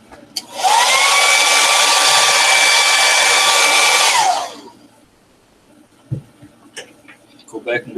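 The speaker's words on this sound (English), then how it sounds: "Hit it with the dryer." A hair dryer roars loudly and steadily for about four seconds, then cuts off, leaving quiet room sounds and a few light clicks.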